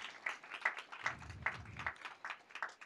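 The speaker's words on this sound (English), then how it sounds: "If we can give all of these partner organizations a round of applause." An audience gives a round of applause for partner organizations at an education leadership event: sparse, fairly faint claps in a steady rhythm, with a brief low murmur partway through.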